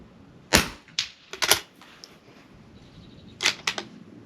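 Sharp .22 rifle shots at steel targets on an NRL22 match stage, about six crisp cracks in quick clusters with short pauses between volleys, close and loud against a quiet background.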